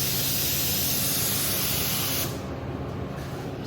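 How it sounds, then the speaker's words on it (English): Primer sprays steadily onto a car bumper as a loud, continuous aerosol hiss, which drops to a slightly softer spray for the last second. "So I'm about to prime this bumper."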